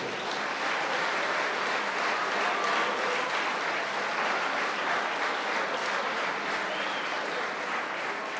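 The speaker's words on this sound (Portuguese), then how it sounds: "eu queria da vossa parte, bem à moda da Terceira, um grande aplauso para esses que também são construtores da cantoria dos Açores" Sustained audience applause at a Terceira, Azores festival of singers and musicians, a dense, even wash of many hands clapping from the crowd with no talk over it.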